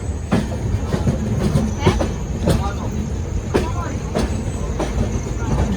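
An express train pulls into Jhansi station, with a steady rumble and clattering wheels, squeals and the clank of cars. It sounds close and continuous, and voices are heard faintly under it.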